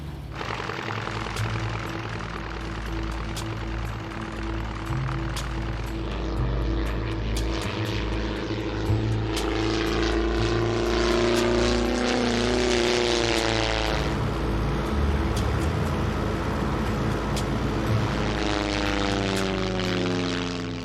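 A propeller airplane flies to the remote islands of Penobscot Bay, its engine droning loud and steady with a shifting pitch and a rising-falling sweep across the whole stretch, with no voices.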